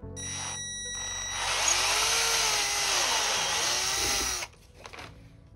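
Electric drill boring a screw hole in a PC case, a steady whining drone that rises as it bites in for about three seconds, then cuts off, close and alone.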